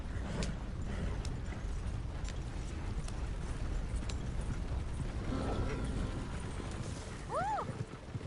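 Hooves clip-clop in a steady trot in the video game Red Dead Redemption 2 over creaking and rattling mechanical sounds, with a brief whoosh near the end.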